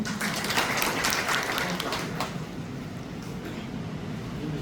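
Applause from a school audience in Vidyanagar, dense broadband clapping that is loudest in the first two seconds and then settles into a steadier, lighter patter.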